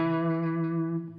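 A sustained electric guitar note through a Supro '64 Super amp rings out with rich harmonics and a reverb tail, fading slightly near the end, heard alone.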